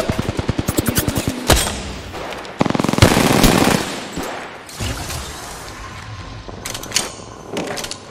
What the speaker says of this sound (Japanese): 射撃開始。